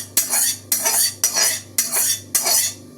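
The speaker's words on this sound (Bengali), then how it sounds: "এই যে আর একবারও নেড়ে ঝাঁকিয়ে নেবো।" Fried rice being stirred and tossed in a pan with a spatula, with green chillies and butter added, giving five loud, regular metallic scrapes and clatters roughly every half second over a low steady hum.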